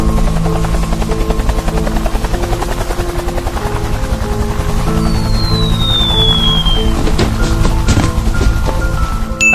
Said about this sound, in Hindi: अरे ये क्या, ग्रैंडपा के साथ साथ तो हेलीकॉप्टर से जेसन भी यहाँ आ गया।